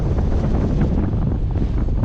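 Heavy wind buffets the microphone outdoors at an RC VTOL flying session, a loud continuous low rumble with gusty fluctuations and no voices.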